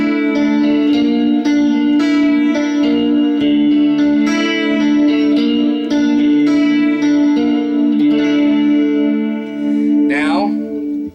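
A 1974 Gibson SG Custom electric guitar with Seth Lover and Custom Duncan humbuckers, neck and middle pickups both engaged, plays loud sustained chords and notes through effects with chorus and reverb, ending in a rising pitch sweep.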